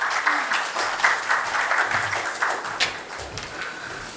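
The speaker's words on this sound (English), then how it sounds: "Please welcome her with a round of applause." An audience claps steadily to welcome a presenter at a chemical company product presentation, a sustained round of applause from a modest crowd, fairly close and even throughout.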